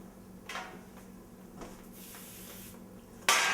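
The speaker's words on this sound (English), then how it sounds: "I'll be spraying with a light cooking spray on the baking sheet." Light cooking spray misted onto a baking sheet, with several brief soft hissing bursts spread through the quiet clip, followed by a sharper, louder spray near the end.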